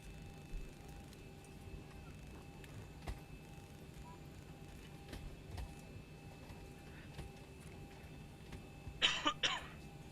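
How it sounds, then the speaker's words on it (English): A cough is picked up by a microphone that has been moved aside during a flight simulator session, a short cluster of bursts near the end over a faint steady electronic hum. "it does manage to get a cough even when I move the microphone out of the way"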